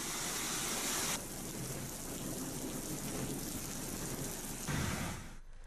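In Rishikesh, a sudden storm of rain and hail with strong winds makes a dense, steady roar of heavy downpour, continuous and loud throughout with no voices.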